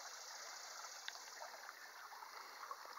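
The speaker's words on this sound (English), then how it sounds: "Water just rustling along there." The Conasauga River in Georgia flows past, a soft, steady trickling rustle of moving water heard faintly and alone, with a few small splashes.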